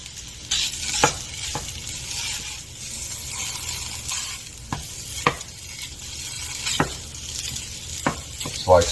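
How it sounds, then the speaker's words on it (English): Maple breakfast sausage sizzles in a pan with a constant close frying hiss, while a spatula breaks it up with repeated scraping taps spaced every second or so. "Maple breakfast sausage. Let's get it broken up."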